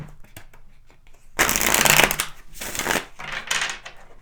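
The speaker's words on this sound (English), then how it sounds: "Let's go ahead and pull some tarot cards here and see what we get to clarify this even more." Tarot cards are shuffled by hand in two or three quick riffling bursts, crisp papery flutters close to the mic separated by brief pauses and light handling noise.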